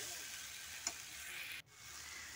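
Chicken mixed with spices and salt in a pan, a soft steady sizzle with a faint utensil tap and a brief scrape, quiet and close with no talking.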